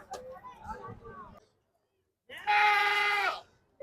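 Talk in Hindi gives way, after a brief silence, to a single loud, close, wavering bleat from a goat at a goat market in Ratnagiri.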